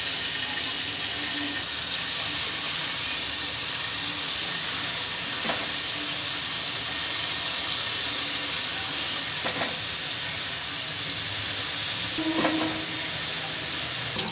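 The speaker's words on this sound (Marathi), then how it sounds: "आता त्यामध्ये मी कोलमी भाजून घेणार आहे।" Prawns frying over a low flame in a pan coated with oil give a steady, loud, close sizzle that runs without a break, with a few faint crackles and pops on top.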